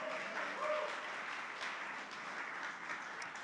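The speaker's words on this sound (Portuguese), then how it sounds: "dê um aplauso a Jesus por causa disso" A church congregation applauds during a sermon, a steady, even wash of many hands clapping at moderate distance, with a faint voice briefly audible over it.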